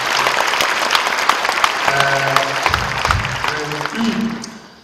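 A church congregation at a prayer service claps together in a full, steady burst of applause, with voices speaking underneath before the clapping tapers off at the end.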